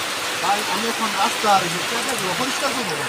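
Steady rain falls with a broad hiss while people talk throughout, their voices close and conversational over the constant downpour.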